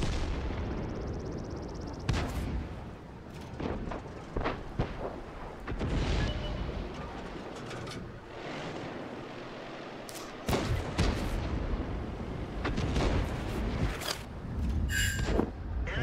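Tank cannons fire in a World of Tanks battle, with repeated heavy booms and sharp shot cracks spread irregularly over a continuous rumbling background.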